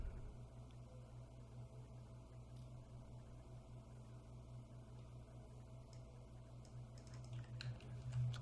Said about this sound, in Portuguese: Tô digitando esse cara errado, véio.